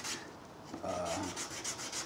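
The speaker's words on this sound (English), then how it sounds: "Over here you can still hear it actually sanding stuff off." A worn 2004 Nissan headlight lens is hand-sanded to remove oxidation and road grime, producing a soft rhythmic rasping rub, close and fairly quiet, with no talk.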